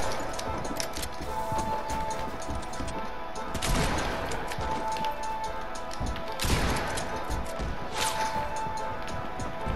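Sniper and shotgun fire in a video game match: a few sharp broadband cracks stand out at intervals over a steady, low game background, with no talk.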